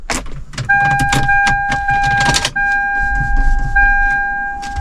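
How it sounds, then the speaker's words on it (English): A 2001-07 Toyota Sequoia is started up: keys jangle and a steady two-tone warning chime repeats, then the engine catches and settles into a low idle, all close by. "Let's start the car."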